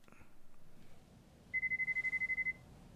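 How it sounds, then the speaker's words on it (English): An electronic phone ring in the video game Lost Judgment trills in a quick pulsing burst for about a second, fairly faint, over a quiet low hum with no talking. "Oh, the phone's ringing."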